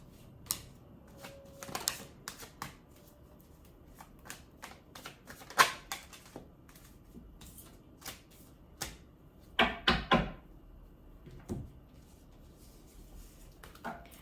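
Tarot cards are shuffled and handled quietly at close range, making a series of soft, irregular riffles and flicks with brief pauses between them, with a few sharper snaps in the later part.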